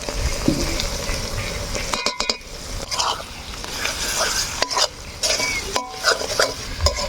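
A spatula repeatedly scrapes and stirs spice paste of green and dried chilli, salt and turmeric in a hot pan, with a constant sizzle beneath loud, close strokes and a few metallic knocks.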